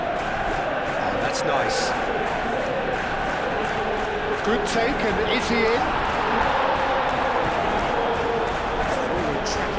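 Stadium crowd noise from a football video game, a steady dense roar with swells of cheering as a tackle is made, running under continuous commentary voices throughout.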